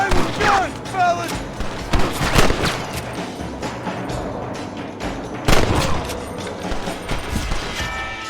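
Rapid gunfire in the Western video game Red Dead Redemption, with repeated loud shots and booming reports in dense volleys throughout, and voices talking over the shooting.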